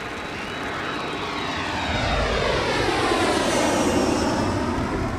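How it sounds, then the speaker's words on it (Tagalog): A fighter jet passes overhead with a loud, sustained roar that swells over several seconds, with a rushing sweep as the aircraft moves across and no voices. "May dumaang fighter jet, ha?"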